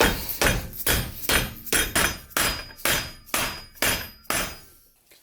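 Rubber mallet repeatedly whacking a stuck O2 sensor on a car, about eleven loud, close blows in a steady, evenly spaced rhythm, each ringing briefly, with no talking.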